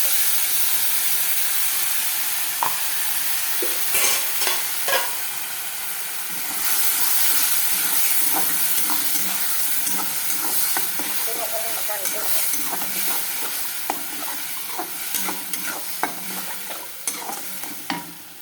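Fish fries in a pan with a constant, bright sizzle and hiss, with frequent small clinks and scrapes from stirring scattered across the whole stretch.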